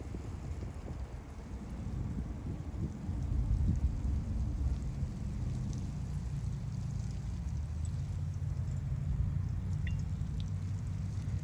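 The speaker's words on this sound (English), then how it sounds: "We're now going to rain on the box with the dead cover." Water poured like rain onto a soil box with dead cover gives a continuous low rushing patter. It is fairly faint, steady throughout and swells slightly midway, with no voices.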